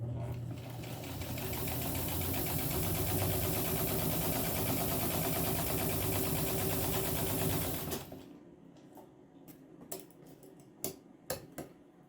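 A 103-year-old White rotary electric sewing machine stitches steadily and loudly for about eight seconds with a fast mechanical whir, then stops, leaving a few sharp clicks and knocks from the hand wheel.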